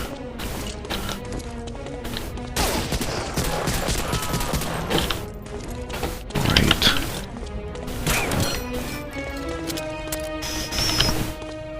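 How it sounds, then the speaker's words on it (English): M1 rifle gunfire in a World War shooter video game, a run of sharp, evenly spaced shots with mechanical clacks between them, mixed with other battle noise and someone talking over the action. "Remember now I have to empty out the M1 magazine before I get to reload it."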